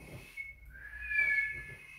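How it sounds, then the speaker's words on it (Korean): A short whistled tone rising and holding, fairly close, with faint background noise and no talking. "휘파람."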